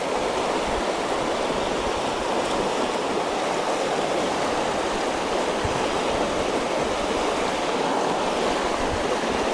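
A river flows steadily with a continuous broad rushing hiss of moving water, even and close throughout, with no talking.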